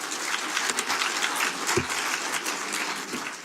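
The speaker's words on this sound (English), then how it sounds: "Let's give them a round of applause." Audience applause at a county executive's economic address held at MGM National Harbor, a steady wash of many hands clapping that holds evenly throughout, with a brief low thump partway through.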